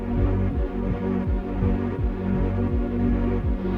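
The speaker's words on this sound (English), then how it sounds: "This is the sound of the bus when it's stationary." London TfL bus acoustic vehicle alerting sound heard while the bus is stationary: a steady low throbbing hum with a repeating pulsing pattern about twice a second, continuous and fairly loud, with no voices.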